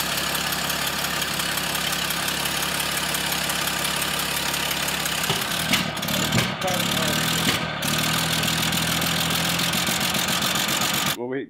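Carbureted six-cylinder car engine idling steadily up close, an even low rumble with a few brief clanks and bumps partway through, then cutting off at the end, with some speech faintly in the background.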